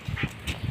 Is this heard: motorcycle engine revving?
no